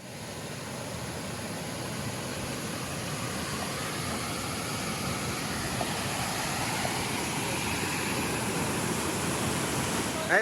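Flowing water at the Narasipuram multi-step waterfall near Coimbatore, a steady broadband rush that holds at a constant level throughout, with no clear voices above it.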